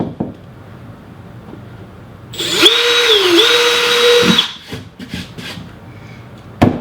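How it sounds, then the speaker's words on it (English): Power drill boring a pilot hole in wood for wall shelf screws, a single sustained whine of about two seconds with a rising then steady motor pitch, close and loud, followed by a few light knocks and handling sounds. "I'm just going to drill a pilot hole."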